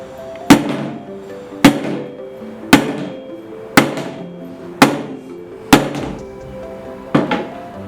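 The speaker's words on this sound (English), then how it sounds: "Now we're going to test the durability of the WP6 Reggae phone with this 2 kg hammer." A 2 kg hammer strikes an OUKITEL WP6 rugged phone seven times at an even pace of about one blow per second, each a sharp, loud metallic crack with a short ringing decay.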